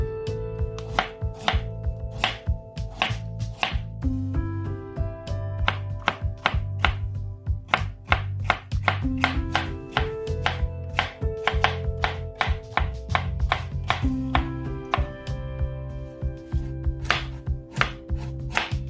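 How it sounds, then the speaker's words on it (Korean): A knife julienning potatoes chops rapidly and steadily on a wooden board, a long run of close, crisp strikes with faint tonal ringing underneath; no speech. "감자는 5cm 길이로 채 썰어줍니다."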